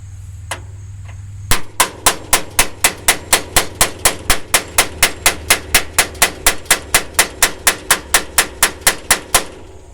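Steel hammer striking a hydraulic lifter to loosen it from the bore of a 225 slant six engine: about thirty sharp metallic blows in a steady rapid rhythm, loud and close, following a quiet start.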